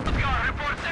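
Mortar shells burst in Company of Heroes 2, a rolling series of booming impacts and rumbling blasts packed into a second of dense battlefield noise.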